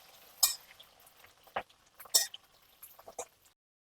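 Capsicum being stirred in hot oil in a pan, with scattered sharp clinks and scrapes of a spatula against metal over a faint sizzle, the strokes spaced unevenly before stopping.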